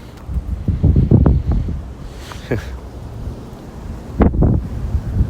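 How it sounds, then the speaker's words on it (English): Wind buffets a microphone outdoors in heavy bursts of low rumbling thumps that come and go, loud and close, with brief quieter gaps between gusts. "Uh-oh, here goes the wind."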